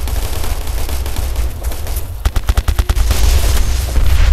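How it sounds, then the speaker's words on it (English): Gunfire during a firefight in the military shooter Operation Flashpoint: Red River: a tight burst of about eight sharp, close shots over a constant rumble of battle, with more scattered firing around it. "We're getting shot at."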